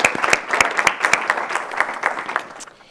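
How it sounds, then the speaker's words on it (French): Applause rings out from the audience at a municipal council meeting during an honourable mention award, with distinct, fairly close claps scattered over a steady patter that fades out near the end. "Alors félicitations et une bonne main d'applaudissements."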